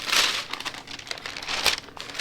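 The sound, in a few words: parchment paper being handled and placed on top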